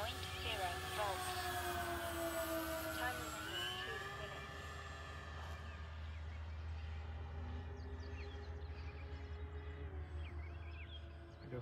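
A FlightLine B-25J Mitchell RC model plane flies with a steady, loud twin-engine drone throughout, its pitch sliding down partway through as it passes, with a constant low hum underneath.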